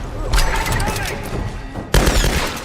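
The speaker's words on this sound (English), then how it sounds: "I've started mainly using the machine gun, simply because one, it sounds really nice now that it's fully upgraded" A fully upgraded machine gun fires in the 2013 Tomb Raider game. Two loud bursts of rapid, booming shots come at the start and again near the end, with a voice talking over them.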